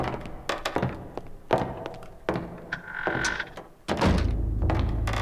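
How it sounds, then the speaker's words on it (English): Knocking on a door in the horror video game Eternal Darkness: Sanity's Requiem, a series of muffled thunks and taps scattered across the scene, followed by a low rumbling ambience. "Was the knocking coming from that room?"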